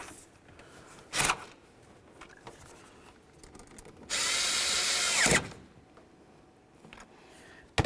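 A power tool tightens bolts on a Chevy Silverado engine, with a short buzzing burst, a quiet stretch of faint handling clicks, then a louder whirring run of about a second, all close by.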